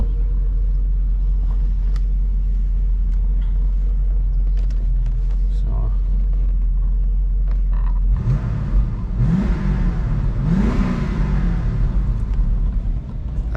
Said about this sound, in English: So it has like a, if I'm not mistaken, a 5-liter V8.